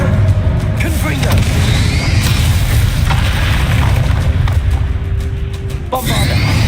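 A Confringo fire spell blasting in the game Hogwarts Legacy, producing a loud, continuous booming explosive roar with deep rumbling and crackling layered with other combat effects, close and sustained throughout.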